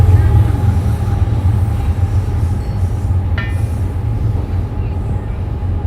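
Train passing close by with a loud, steady low rumble of rolling wheels and a brief metallic squeal, continuous throughout.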